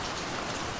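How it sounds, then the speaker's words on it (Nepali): Steady rain pours over a village in cool, misty weather, a dense continuous hiss of drops striking surfaces with no pauses and no voices. "त्यो शीतल पानी पर्दैछ"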